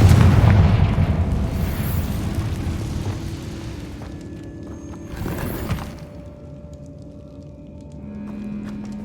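Confringo fire spell exploding in the Hogwarts Legacy video game, a loud booming blast that rumbles and fades over several seconds, then a second smaller burst and trailing debris sounds.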